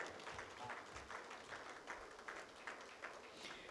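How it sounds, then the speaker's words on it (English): An audience at a commercial bank's 20th anniversary remittance service event claps in a steady, fairly faint wash of applause that carries on evenly through the whole stretch. "your applause is on a downward curve"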